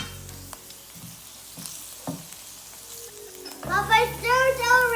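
Onion fries in a pan with a soft crackling sizzle that grows louder toward the end, while a child and an adult talk over it.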